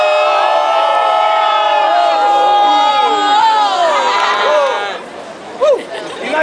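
A large audience at a live show in Krakow screams and cheers loudly, a dense wall of overlapping shouting voices that holds steady, then fades away, with one brief burst near the end.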